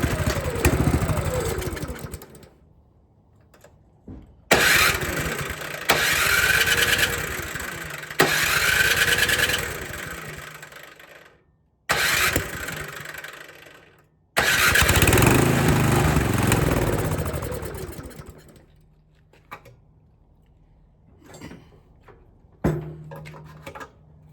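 A Briggs and Stratton 1024 snowblower engine tries to start with the choke on, giving several loud, sputtering bursts of running that cut out in between, each catching and dying, close by with no talk.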